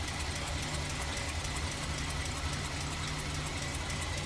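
A 1947 Ford Deluxe Sedan's flathead V8 idles steadily nearby, a low rumbling drone with a faint rhythmic knock, continuous throughout with no talking.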